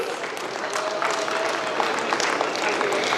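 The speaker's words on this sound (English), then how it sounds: "Shall we give a round of applause for her devotion towards DTEA, please?" An audience at a school auditorium inauguration in New Delhi applauds with full, sustained clapping at a steady level, with a faint voice underneath.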